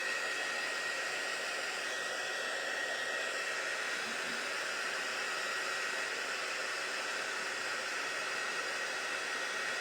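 A hair dryer blows steadily over a freshly painted vintage hot chocolate craft tin, a loud, even whooshing roar that holds without a break for about ten seconds, with no voices.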